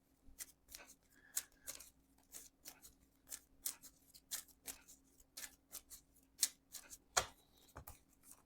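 Marvel Champions game cards are shuffled by hand in a quiet room, a fast irregular series of crisp riffling slaps and flicks, close and fairly soft.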